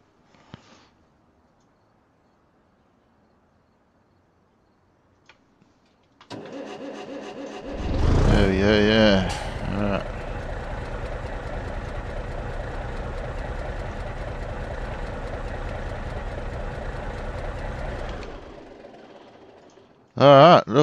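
A Gavril T-Series truck engine in the BeamNG video game cranks and starts with a loud roar, then settles into a steady, even idle that fades near the end, with a person talking briefly at the close.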